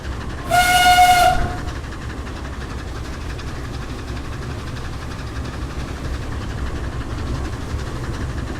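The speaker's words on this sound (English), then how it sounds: "we're actually chuffing along quite nicely here" A small steam locomotive in the Train Simulator video game gives a short, loud whistle blast, then keeps running with a steady, low rumble of wheels and engine.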